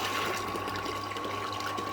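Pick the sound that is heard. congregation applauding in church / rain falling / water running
water running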